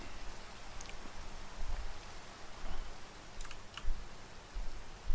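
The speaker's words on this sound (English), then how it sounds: "the rain's a bit of a bummer, isn't it?" Rain falling in the Minecraft mod TerraFirmaCraft, a steady soft patter with scattered drop clicks and occasional louder taps, moderately quiet and with no talking.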